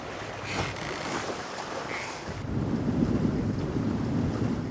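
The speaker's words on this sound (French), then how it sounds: "Les vagues giflent littéralement l'île." Ocean waves slap and break against the rocks of an island, a loud continuous surging roar with churning water and wind, close and unbroken.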